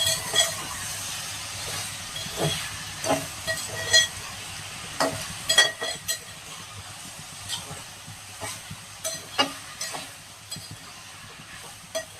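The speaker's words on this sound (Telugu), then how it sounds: "మళ్ళీ ఒకసారి కలిపేసి మూత పెట్టేద్దాం" A mixed vegetable curry is stirred in a pan, giving scattered light scrapes and clicks over a steady, quiet sizzle and hiss, with no talk.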